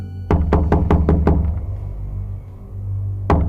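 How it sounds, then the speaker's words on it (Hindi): Five loud, heavy knocks in quick, even succession on a main door, a horror-story sound effect, ring out over a low droning rumble, with one more hard knock arriving a couple of seconds later. "अचानक किसी ने मेन डोर को जोर से नॉक किया"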